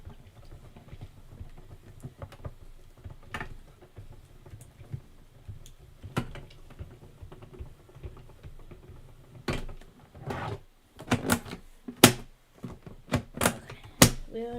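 Paper snowflake die cuts fed through a crafting die cutting machine, a series of dull clunks and rolling thumps that grow louder and busier toward the end, close by with no talking.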